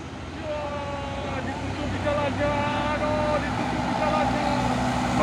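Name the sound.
Bintang Utara Legacy SR2 bus passing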